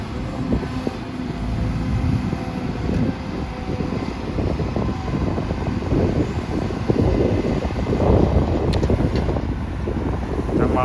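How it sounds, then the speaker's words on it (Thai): Strong wind gusts across an excavator dig site where a Sumitomo SH210-6 digs a biogas pond. A loud, steady buffeting rumble with heavy wind noise on the microphone lasts throughout, with no talking. "ลมมานี่ก็แรง แรงใช้ได้เลยคุณผู้ชม"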